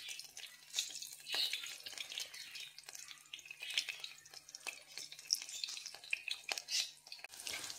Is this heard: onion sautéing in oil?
yes